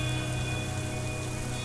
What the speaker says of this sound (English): The great roll of the rain pressed slowly against my ears.